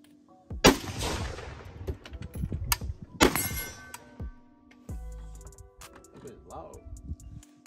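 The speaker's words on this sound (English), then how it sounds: "At 50 yards, I'm gonna try to hit that steel target a couple times and I'm gonna bump fire." AK-pattern HellPup pistol fired at a steel target 50 yards away: two sharp, loud gunshots about 2.5 seconds apart, each with a ringing tail, with talking in between and after.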